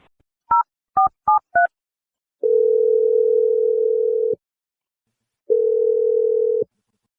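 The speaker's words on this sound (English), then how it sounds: "Let's just dial her phone number and see what she has to say." Four quick touch-tone beeps, then a steady telephone dial tone hums for about two seconds, pauses, and sounds again briefly; clean and close.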